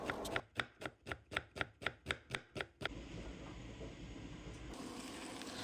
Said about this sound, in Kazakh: Келесі кезекте пиязымызды турап алдым.